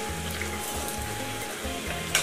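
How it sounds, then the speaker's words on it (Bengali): Bhatura puffing and frying in hot oil, a steady close sizzle throughout with low bubbling pulses and a brief sharp crackle near the end. "একটু চেপে চেপে সাইডগুলো ভেজে নিলাম।"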